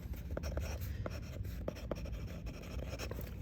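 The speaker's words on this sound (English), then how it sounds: "Write your name on here." A pen writes a name on a Ravnica card pack bundle: soft, close scratchy strokes and small taps in an irregular rhythm, quiet and with no voices.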